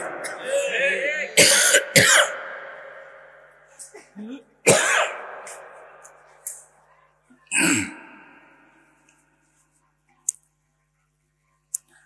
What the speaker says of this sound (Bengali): আমার একটা কাশি আসছে